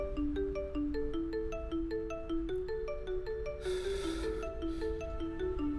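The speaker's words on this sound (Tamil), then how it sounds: "ஃபோன் அடிக்குதுன்னு நினைக்கிறேன், என்னன்னு பாருங்க." A mobile phone ringtone plays a steady repeating melodic tone pattern loud and close, with a brief rustling burst partway through.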